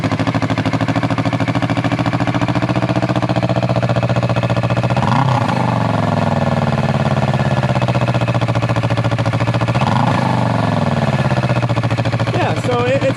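A Kawasaki Vulcan 650 motorcycle engine idles steadily and loudly up close, with two brief throttle blips partway through, running continuously under a voice.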